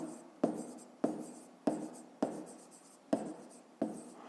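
Pen or chalk writing a math answer by hand, about seven quick scratchy strokes at a steady rhythm, each starting sharply and fading, close and fairly quiet with no talk.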